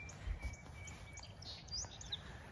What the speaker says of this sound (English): Birds are starting to...